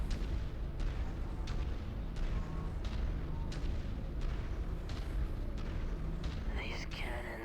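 Cannons firing in the MechWarrior 5 video game, a series of booming shots at regular intervals over a constant rumbling battle background, with a synthetic tone sweep near the end.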